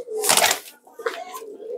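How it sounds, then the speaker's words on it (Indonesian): Homing pigeon, a white bird kept for racing, giving a short soft coo up close, with a person talking nearby and a brief rustle. "Ini merpati posnya seperti ini."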